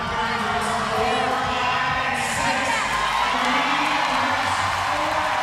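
A packed arena crowd at the CrossFit Games cheers and roars steadily behind an athlete during a workout event, a dense, continuous wall of noise with shouts and whoops rising out of it, while a commentator talks over the top.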